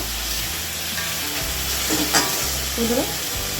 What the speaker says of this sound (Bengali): মশলাগুলো আমি দিয়ে দেবো দিয়ে আমি একটু নাড়াচাড়া করে নেব